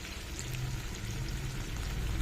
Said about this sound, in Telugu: కొంచెం దీనిలోనే వాటర్ వేసుకొని